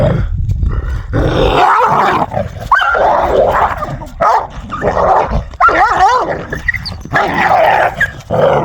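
Dogs snarl and growl loudly up close, breaking into rough barks and whimpers in a sustained, aggressive scuffle.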